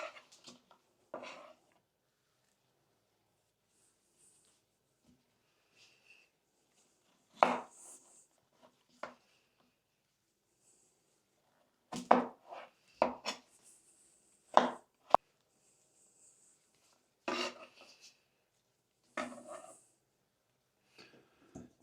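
A knife chops meat into small cubes on a board, with sparse irregular thuds, several close sharp knocks separated by quiet gaps, no speech over them.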